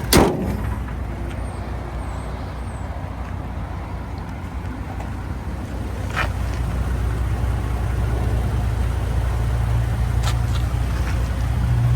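A 2018 Toyota Tacoma TRD off-road long bed idles close by, a steady low engine drone after a sharp thump at the start, with a few faint clicks and no talk.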